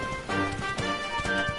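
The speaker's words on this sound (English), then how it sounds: "there's a horse's bell here." A horse in the Dragon Quest XI video game trots with rhythmic clip-clop hoofbeats and a bell, steady and close, with no other sounds over it.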